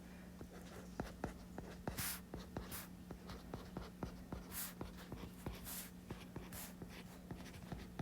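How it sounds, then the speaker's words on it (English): A pen scratches on paper while someone writes out math homework, with quick irregular strokes and taps, faint and close, with no talking. "I'm going to write down what F is."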